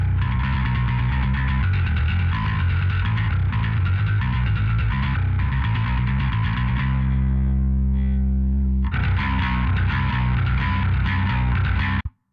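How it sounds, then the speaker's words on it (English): A thick, distorted technical death metal bass guitar tone, blended from three tracks, plays continuously with a gritty, saturated edge, briefly thinning to a sustained ringing note before the full riff returns and stops abruptly. "Take a quick listen to what our bass sounds like."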